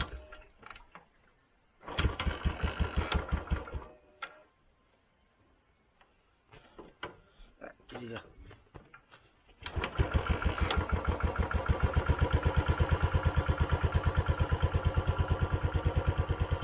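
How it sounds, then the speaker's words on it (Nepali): A motorbike engine is cranked in a few short bursts that stall, then catches and settles into a loud, steady, rapidly pulsing idle that runs to the end. "अब चाहिँ स्टार्ट गरौँ त बाइक चाहिँ"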